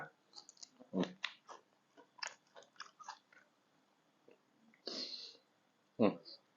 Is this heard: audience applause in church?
no